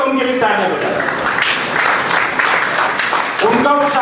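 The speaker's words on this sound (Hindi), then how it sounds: "आप खड़े होकर उनके लिए तालियां बजाएं, उनका उत्साह बढ़ाए।" An audience rises to a standing ovation for an 82-year-old woman donor at an Arya women's training camp in Vashi; dense, steady clapping fills the space for a few seconds, with voices speaking at the start and end.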